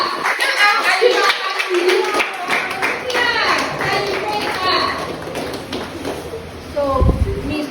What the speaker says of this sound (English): let's give it to her again. Clap for her.